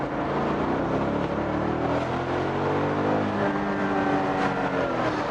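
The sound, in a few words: BMW Z8 accelerating hard, 400 hp engine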